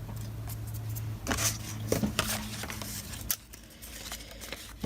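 Paper torn by hand while working on an altered book, heard as a few short close rips and rustles with light handling noise between them and no talking.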